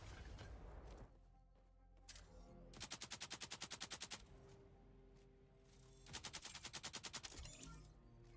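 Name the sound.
submachine gun (SMG) firing in a video game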